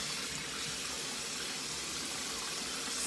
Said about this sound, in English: I use hot water to wash my face.